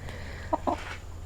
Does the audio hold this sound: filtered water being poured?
no